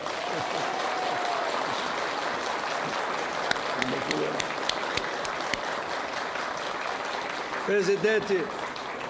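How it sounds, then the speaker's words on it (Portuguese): Applause rises in the chamber of the Brazilian Senate, a soft, continuous wash of clapping heard at a distance, with a voice briefly speaking over it near the end. "Estão liberados para dar uma salva de palmas aí."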